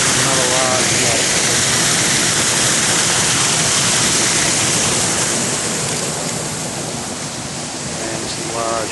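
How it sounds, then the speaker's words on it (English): Steady broadband rush of a waterfall beside a large lake among tall trees, continuous and fairly loud throughout, with faint voices briefly audible at the start and end. "Here's the waterfall."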